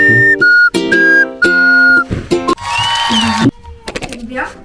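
Someone whistles a short tune of several sustained notes, loud and close, followed by laughter and brief voices.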